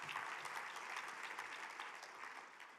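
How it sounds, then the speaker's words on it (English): A church conference audience breaks into sustained applause, a dense wash of clapping that holds steady throughout and fades slightly toward the end, with no voices over it. "clap for him"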